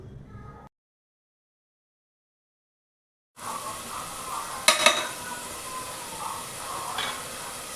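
Tomatoes and onions sauté in oil in a pan over a low flame, giving a steady close sizzle and frying crackle with a few brief stirring scrapes, after an opening stretch of silence.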